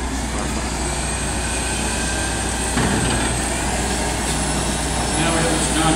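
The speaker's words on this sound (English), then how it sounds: "Now we have Mr. John Comer coming in on one of our 2 models of our backhoe loaders" A Volvo VL70D backhoe loader drives in at a machine show, giving a steady, loud engine drone with continuous broadband rumble throughout, no distinct breaks.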